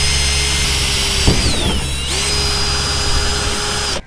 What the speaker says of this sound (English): I'm gonna drill a hole to start the cut.